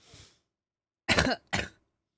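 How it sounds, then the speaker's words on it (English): Three short coughs: a faint one, then a pause, then two louder, harsher coughs close together, up close and alone. "I still have some of the cough, unfortunately."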